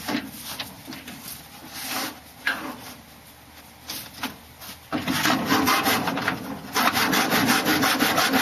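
A hand saw cuts through wood in a small miter box for a greenhouse build, giving a continuous close rasping of back-and-forth strokes that grows louder and faster toward the end.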